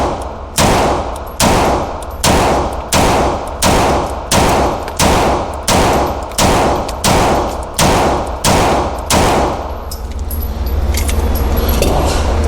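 A Beretta M9A4 pistol fires about twelve loud, evenly spaced shots, the first a long double-action pull and the rest single action, each crack ringing out before the firing stops and a low rumble remains.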